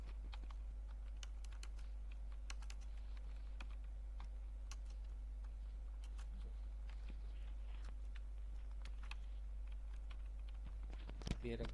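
Rapid keystrokes on a computer keyboard are tapped out while an online job application form is being filled in, a steady run of close clicks over a low hum, ending in a couple of louder key hits.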